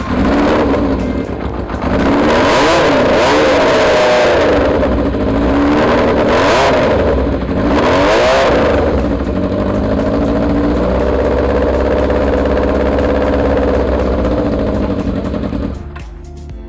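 A Kawasaki Zephyr cafe racer motorcycle with an SEC exhaust pipe revs loudly and close by, rising and falling in repeated surges, then settles into a rough idle. No one speaks.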